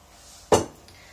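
A frying pan is handled while pieces of cooked duck are moved into a multicooker, giving a single sharp metallic clank followed by a short ringing decay in a quiet kitchen.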